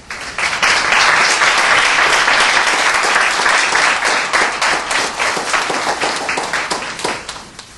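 A lecture audience at a World Affairs Council event in Washington, DC breaks into loud, sustained applause that holds steady for several seconds before starting to taper off.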